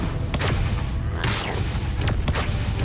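A gun in the shooter game Geist firing in loud, rapid bursts over a dense battle din, with several sharp sustained volleys close by and no speech.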